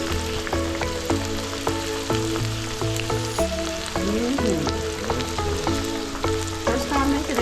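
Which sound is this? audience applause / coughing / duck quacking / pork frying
pork frying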